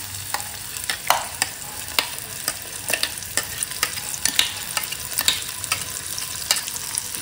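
Ground paste for chickpea kurma sizzles and spatters in a hot pan with sautéed tomatoes while a spoon stirs and scrapes, with soft irregular clicks throughout, close up.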